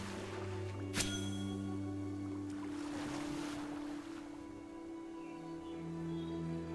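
Water sloshes and washes steadily in a BitCraft Online game setting, a continuous soft surf-like wash under humming ambient music tones, with no talking.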